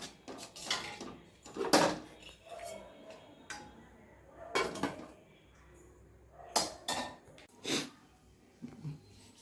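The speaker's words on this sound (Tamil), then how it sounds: "இப்போ பருப்பு கொதிக்கட்டும் மூடி வச்சிடலாம்" Several sharp metallic clanks and clinks as a lid is set onto a pot of boiling moong dal for sambar, spaced irregularly, close by with no talking.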